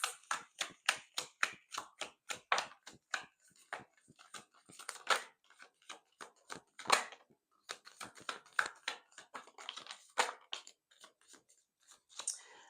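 Tarot cards are drawn and laid out during a reading, making a long run of close, crisp snaps and flicks in an uneven rhythm, with brief pauses and no talking.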